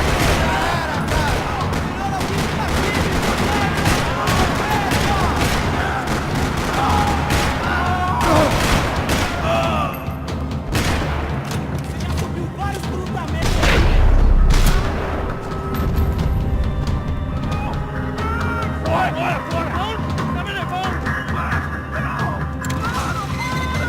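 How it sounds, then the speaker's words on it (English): Dense bursts of gunfire rattle nearly nonstop in a parking lot in Max Payne 3, with crashes and heavy booms mixed in, and voices shouting intermittently beneath the shooting. "Another parking lot rattling with gunfire."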